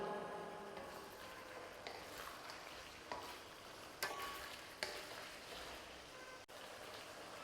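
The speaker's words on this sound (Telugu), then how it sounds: "కొంచెం హైలో పెట్టుకొని బాగా వేయించుకోవాలి" Fresh curry leaves sizzle and crackle steadily in hot oil over high heat while making chicken fry, a dense spitting hiss broken by a few sharper pops.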